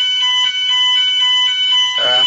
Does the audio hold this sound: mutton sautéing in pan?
no